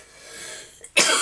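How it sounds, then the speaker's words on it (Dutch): A child coughs once, a short sharp burst near the end after a quiet stretch, heard close and loud during a Stratego Pirates board game session at a table. "Moet je hoesten? Ja, hoest maar even."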